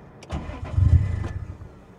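A car engine cranks without catching: a short burst of starter whirring with low rumbling turns that fade out after about a second, close by, with no voices.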